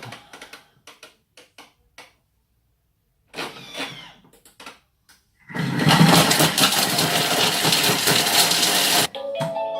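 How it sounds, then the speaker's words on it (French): A Thermomix food processor whirs into a loud, dense roar at full speed 10 while blending chicken for chili, running about four seconds after some clicks and short mechanical noises. "je vais le mixer dans le robot. Je vais mettre 10 secondes vitesse 10."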